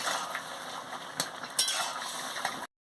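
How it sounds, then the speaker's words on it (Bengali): A pumpkin, potato and eggplant curry with fish head being stirred in a pan after sweetener goes in: a soft, steady sizzle with a few sharp scraping clicks of a spoon, close and quiet, no talk. "পরিমাণ মতন মিষ্টিটাও দিয়ে দিচ্ছি, দিয়ে ভালো করে নাড়াচাড়া করে নিচ্ছি।"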